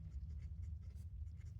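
Marker or chalk writing on a classroom board, heard as faint, soft strokes and scratches over a steady low hum in a quiet room.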